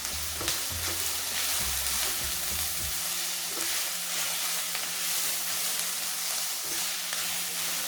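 Curry leaves frying and being stirred in hot oil for an Indian-style lamb curry, a loud, steady sizzle with scraping stir strokes early on, close up and without talk.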